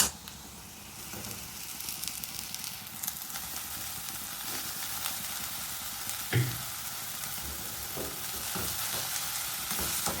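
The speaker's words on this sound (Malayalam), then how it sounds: "ഇതിലേക്ക് നമുക്ക് അരിഞ്ഞു വെച്ചിരിക്കുന്ന മത്തനെല്ല ചേർത്ത് കൊടുക്കാം" Chopped pumpkin leaves sizzle and fry in a pan with onion that has already browned, giving a steady close crackle with occasional stirring knocks and no talking.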